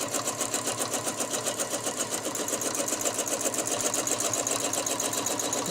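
Sewing machine stitching lines on fabric, a steady rapid mechanical chatter running without a break, close and even in level, with no voices.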